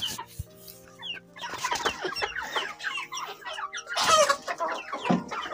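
Goliath chickens cluck repeatedly inside a chicken coop, several birds overlapping in busy, close clucking that grows louder toward the end.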